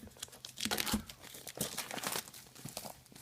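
A wireless HDMI transmitter box is pulled out of its plastic wrapping, giving close, busy crinkling and crackling of plastic with a few sharper rustles and no voices.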